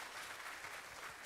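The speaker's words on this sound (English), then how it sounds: "Another round of applause." Faint, steady applause from an audience at an ambassadors' conference, a continuous wash of many hands clapping with no break.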